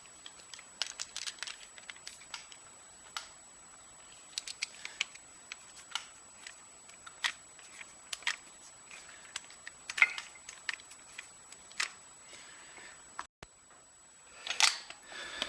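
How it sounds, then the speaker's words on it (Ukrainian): Small metallic clicks and ticks from NGK spark plugs being threaded and screwed into a motorcycle engine, a sparse irregular series of close, quiet taps with a brief louder rustle near the end. "Ну що, вкручуємо свічки."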